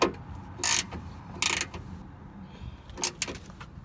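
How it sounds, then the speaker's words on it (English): Several short bursts of a socket ratchet clicking as it tightens a bolt during a Chevy Silverado rear door latch repair, three quick ratcheting runs close up with quiet gaps between. "Tighten that. That's a 10 millimeter socket"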